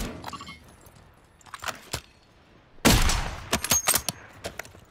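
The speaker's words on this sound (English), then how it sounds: "They're dropping bombs." Bombs drop and explode in a Call of Duty Warzone match: a quiet stretch with scattered clicks, then a sudden loud blast followed by a burst of sharp cracks and bangs close by.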